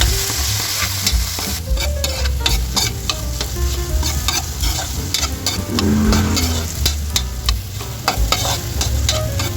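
Tomatoes sauté with garlic and onion in a pan for ginisang mongo, giving a steady loud sizzle with repeated scrapes and clinks from stirring throughout, and no voices.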